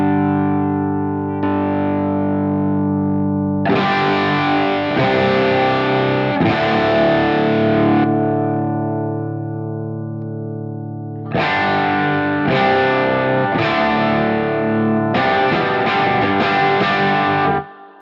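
An electric guitar plays through an Origin RevivalDRIVE overdrive pedal with the bright cap engaged, giving sustained distorted chords in several strummed bursts with a long ringing decay between them, loud and up close.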